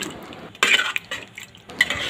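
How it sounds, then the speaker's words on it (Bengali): A spoon scrapes and clinks against a pan while katla fish and mixed ripe and green tomatoes are stirred, with several irregular close bursts of scraping separated by brief pauses. "ভালো করে নাড়াচাড়া করে দিলাম।"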